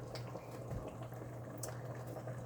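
Water boiling in a pot for dyeing polyester lace with iDye Poly, a quiet steady bubbling and simmering with faint pops and a low hum, no talking.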